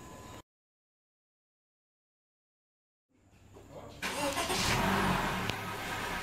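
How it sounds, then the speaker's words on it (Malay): A 2020 Honda City engine turns over and catches after a few seconds of silence, then settles into a steady, close running hum. "sekarang kereta kita dah start."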